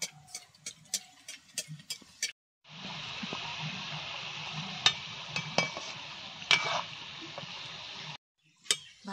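Fenugreek leaf snacks fry in hot oil with a steady close sizzle for several seconds, framed by sharp utensil taps and clicks before and after the bubbling stops.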